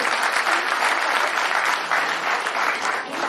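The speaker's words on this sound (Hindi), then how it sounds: "जोरदार तालियां बजा करके हम उनका अभिनंदन करें" Loud, sustained applause from an audience at a formal ceremony honouring a legislator, a dense steady roar of clapping filling the whole stretch without a break.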